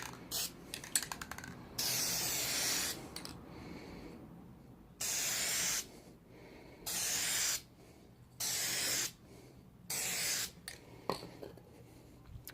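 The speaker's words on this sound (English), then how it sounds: "We're gonna go ahead and paint the front now." Krylon satin spray paint hisses onto a headlight housing in five or six separate bursts of roughly one to two seconds each. The spraying is close and quiet, with small clicks and handling noises in the gaps.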